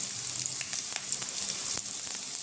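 Onion and curry leaves sautéing in a pan for a Marathi ambadi greens dish with moong dal, a steady close hiss of frying oil with faint crackles and occasional soft stirring.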